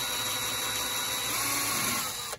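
A steady, high-pitched mechanical whine of a power drill runs continuously, loud and close, with a strained grinding quality as it bores through aluminum.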